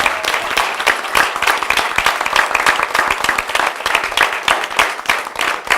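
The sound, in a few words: applause for the budget staff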